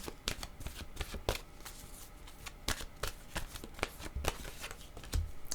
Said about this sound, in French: Allons-y avec une carte de mon oracle de l'âme intuitive.